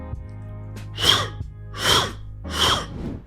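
Three breathy, airy bursts in a slow rhythm, a vocal snare imitation made with the mouth, close and fairly loud.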